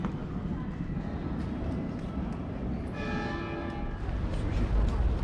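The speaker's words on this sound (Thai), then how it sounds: "หกโมงแล้วเสียงระฆัง" Church bells ring faintly in the distance at six o'clock in Dubrovnik, Croatia, nearly buried under steady outdoor ambience and murmuring voices near the city walls, with children playing basketball.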